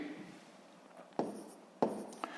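Pen scratching across a notebook page during a sixth-grade math exercise, a quiet continuous scrawl broken by two sharp taps near the middle and end, close and soft.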